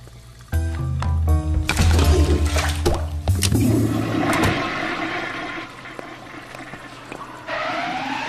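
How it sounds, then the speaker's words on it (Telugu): A latrine toilet flushes with a loud, close rush of water that tapers into gurgling and draining, followed by a quieter hiss of the tank refilling. "లెట్రిన్ లో పెట్టి నీళ్లు కొట్టారా చిటి."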